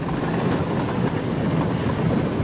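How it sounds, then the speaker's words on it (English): A Wessex military helicopter on its final training flight over a lake in Snowdonia, near Llanberis, gives off a continuous broadband rotor and engine roar, loud and unbroken, mixed with wind buffeting the microphone. "These are the last moments of the Wessex helicopter's final training flight over Snowdonia."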